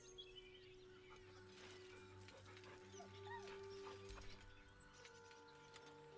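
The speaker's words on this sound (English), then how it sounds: "The dog whimpers nervously" A dog in the video game Baldur's Gate 3 whimpering nervously, faint soft whines amid quiet game ambience and background music.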